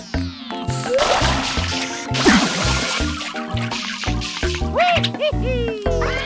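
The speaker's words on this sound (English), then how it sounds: "it's kind of funny how they just make that weird sound every time you hit the water" Cartoonish sound effects from the game Super Mario Eclipse play in quick succession, including a watery splash with a quirky, warbling tone as the character hits water, over upbeat electronic background music.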